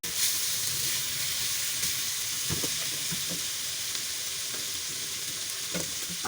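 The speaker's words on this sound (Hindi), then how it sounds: "ये जैसे ही मुझे ऑयल नजर आया है ना, तो भूनती रही हूँ।" Beef curry masala sizzling steadily in hot oil, Hyderabadi style, with scraping stir strokes and small pops over a constant, fairly loud frying hiss, and no talk.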